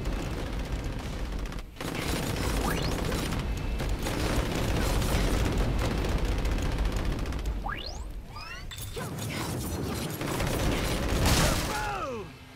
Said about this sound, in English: Boom! What an explosion!